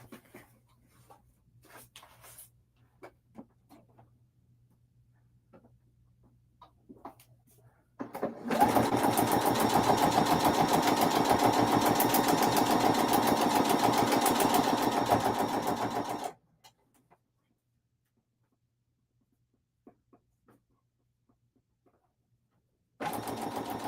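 A sewing machine stitches along the marked line of foundation paper pieced fabric in one steady, close whirring run of about eight seconds, then stops, with a brief restart at the very end and quiet moments before.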